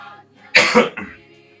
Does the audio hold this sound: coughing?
yes